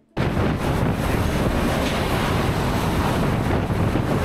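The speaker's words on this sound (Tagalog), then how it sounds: "Grabe yung hangin, men." Strong typhoon wind roars during a major storm's landfall, a dense, unbroken rush of loud blustery noise battering the microphone from start to finish.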